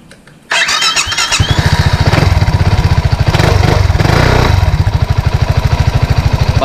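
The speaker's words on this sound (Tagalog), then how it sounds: "So, subukan natin yung start. Parinig natin yung kanyang tunog." A BMW C 400 GT maxi scooter engine cranks and starts, then settles into a steady, throbbing idle close by, loud and continuous.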